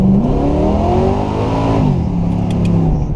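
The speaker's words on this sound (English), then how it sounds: "That was all wheel spin." A Camaro spins its wheels on a first-gear pull, a loud, close engine roar with rising and falling pitch as the revs climb and tires break loose, steady throughout with no voices.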